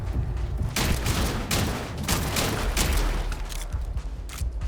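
Bursts of gunfire from Starfield ring out loud and close, arriving as a rapid string of sharp shots with a few short breaks between volleys, and nobody speaks.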